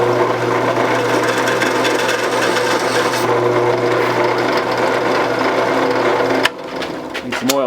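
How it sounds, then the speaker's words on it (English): A power drill bores a clearance hole in a printing press motor part, giving a steady, loud whining grind that runs continuously before cutting off near the end. "I can drill the clearance hole right away"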